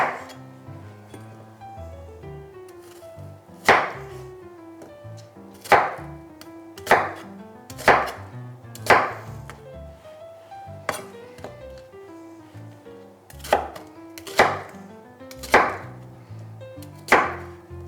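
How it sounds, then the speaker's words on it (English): A knife chops roughly through an onion for a Albanian roasted vegetable and sausage pan dish, giving about a dozen sharp, close board strikes at an uneven rhythm, with no talking. "Last but not least, our onion. Give this just a super rough cut as well."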